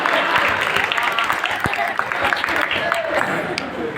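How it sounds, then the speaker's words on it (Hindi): An audience at a children's poetry gathering (bal kavi sammelan) in Meerut claps together, a dense patter of hands with scattered sharper claps, while crowd murmurs and a voice carry along underneath. "ताली तो बजा दो।"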